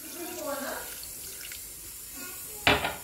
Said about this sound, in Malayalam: അര ഗ്ലാസ് വെള്ളം ഒഴിച്ചു കൊടുക്കാം.